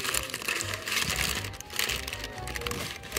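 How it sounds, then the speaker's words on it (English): Paper sheets being peeled off fig drying trays on a breezy village balcony, giving a close, continuous rustling and crinkling with brief scraping bursts. "maybe I'll just take this paper off"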